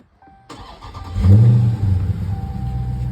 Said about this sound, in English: I'm gonna start the car so I can turn the wheel out